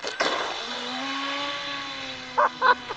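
A high-speed RC speed boat run at full throttle on water: a steady, close electric motor whine rising slightly in pitch for about two seconds, followed by a couple of short bursts near the end.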